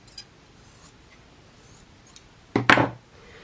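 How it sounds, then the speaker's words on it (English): A single short snip of scissors cutting through a sheet during craft work, close and crisp, lasting well under a second in an otherwise quiet room. "I'm going to cut this just generously about here with the scissors."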